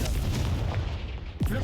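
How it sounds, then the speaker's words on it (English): Confringo blasting spell going off in Hogwarts Legacy, a dense, sustained rumbling blast that fills the clip, ending with a short sharp burst near the close. "Confringo."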